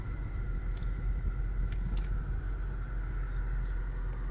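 A 2006 Mercedes-Benz CL55 AMG coupe idles just after starting, a low, even rumble at close range holding steady throughout, with faint intermittent sounds above it.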